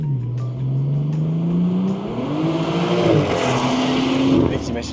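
The engine of a modified car revs up steadily, its pitch rising with a rough, loud mechanical roar as it climbs; people talk nearby under the engine.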